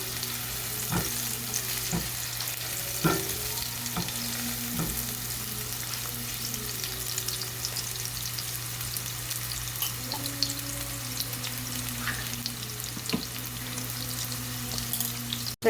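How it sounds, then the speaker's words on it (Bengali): Sliced onions fry in hot oil with a bay leaf, cardamom pods and cinnamon pieces, a continuous low sizzle broken by occasional light clinks and taps, with no voices. "এবার সব কিছু দিয়ে আমি পেঁয়াজটাকে ভালো করে ভেজে নেব।"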